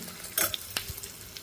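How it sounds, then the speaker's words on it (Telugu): Tempering spices crackle and pop in hot oil for a brief moment, a few sharp near spits over a faint sizzle. "ఇది పోపు వేగుతుంది సో పోపు అయితే వేగిందండి"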